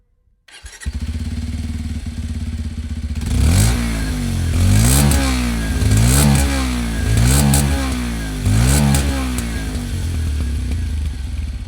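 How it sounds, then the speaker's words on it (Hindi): Bajaj Pulsar 125 motorcycle starts up and idles, then its exhaust is revved in several repeated rising-and-falling blips, loud and close with no talk. "आपको इसका एग्जॉस्ट नोट सुनाता हूँ"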